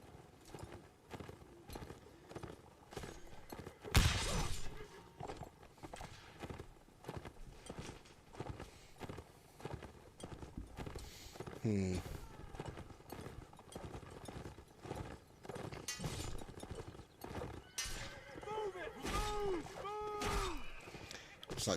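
Horses clip-clop across a Mount and Blade line battle in the North & South mod, with steady hoofbeats under the busy din of battle, a sharp thud partway through and a whinny near the end.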